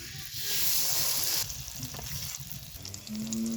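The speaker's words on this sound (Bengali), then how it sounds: "এই আলু ডিমের মিশ্রণ তেলে দিয়ে দিয়েছি ভালো করে ফ্রাই করে তুলে নিব" Potato and egg mixture, made with onion, chili powder and salt, frying in hot oil with a loud steady sizzle that eases partway through, with faint stirring clinks near the end.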